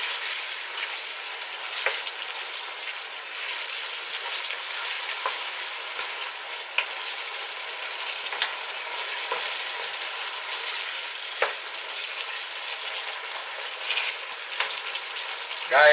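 Ghanaian okra stew frying in a pot while being stirred, a continuous bright sizzle and crackle with scattered pops and scrapes, close and loud throughout.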